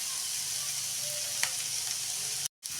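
Chayote goes into a pan of frying mixture for palya, with a steady, fairly quiet hiss and sizzle and one brief clink, then a short drop to silence near the end.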